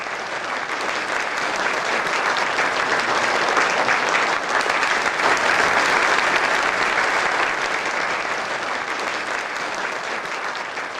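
An audience applauding without pause, a loud, dense, sustained clapping from a sizable crowd that fills the whole stretch evenly, with no talk over it.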